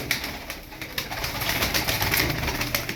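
A flock of tumbler pigeons coos softly in a loft amid a dense, steady wash of background noise, with no voices heard.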